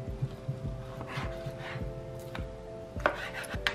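A knife slicing through a thick ahi tuna steak on a cutting board makes a few quiet dull knocks and soft rubbing strokes, close and low in level, with a steady faint hum behind.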